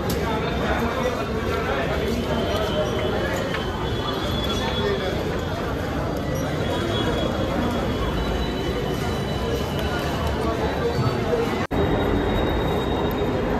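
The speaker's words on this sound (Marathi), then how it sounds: "पण आता आम्ही बसलोय दिल्लीच्या मेट्रोत" A Delhi Metro train underway in a crowded carriage, heard as a steady loud rumble of wheels and motor with faint squeals, a brief clunk near the end, and people talking beneath.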